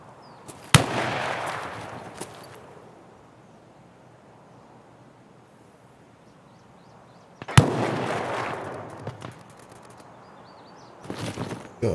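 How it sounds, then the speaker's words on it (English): Gunfire in Escape from Tarkov at Customs: two sharp bursts of shots near 1 and 7.5 seconds, each trailing into a long echoing decay, with another burst starting at the very end, separated by quiet ambience. "Shooting at someone."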